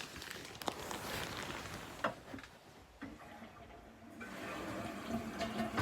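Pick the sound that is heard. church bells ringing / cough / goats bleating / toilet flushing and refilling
toilet flushing and refilling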